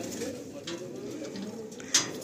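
Pigeons in a large loft of roughly twenty Giribaj birds coo softly in low, rolling murmurs, close by, with a brief sharp sound near the end.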